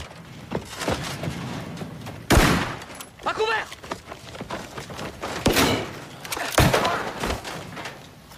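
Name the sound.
gunfire sound effect in a battle scene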